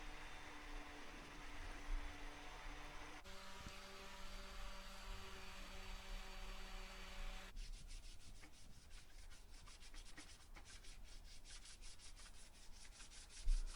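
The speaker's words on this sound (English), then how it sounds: "And then just gave it all a sanding down." Hand sanding of a wooden suet log bird feeder with rounded-over holes, giving a steady, faint scratchy rubbing that shifts in texture partway through and becomes a rapid rhythmic scrubbing toward the end.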